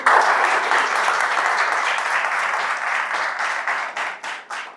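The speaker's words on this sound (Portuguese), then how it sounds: "uma salva de palmas para eles, o Gerson" An audience at a financial-planning lecture applauds the first speaker with a thick, even roll of many hands clapping that holds steady and then tapers into a few separate claps at the end.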